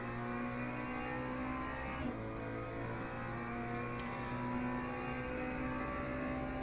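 BMW GT3 race car engine in the racing game Le Mans Ultimate, a sustained steady engine drone held at high revs throughout, with no speech.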